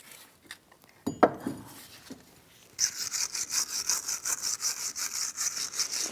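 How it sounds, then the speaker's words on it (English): A bristle brush scrubs back and forth on a Jeep Grand Cherokee front brake caliper bracket, a rhythmic raspy swishing that starts loud and close after a few scattered scrapes and taps. "Now I'm going to use a bristle brush, and I just want to clean up where the pads are going to sit"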